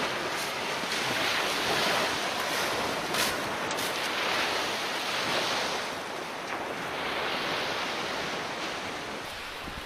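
Sea waves wash continuously onto a beach in a broad, steady roar, with wind buffeting the microphone throughout and no voices.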